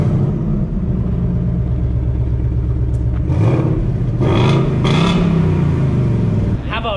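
A stock Ford Mustang engine idles with a deep rumble, then revs up sharply twice in quick succession and settles back, loud and close.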